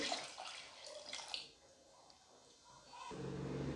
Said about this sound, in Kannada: ಸ್ವಲ್ಪ ನೀರು ಹಾಕ್ಕೊಳ್ಳಿ.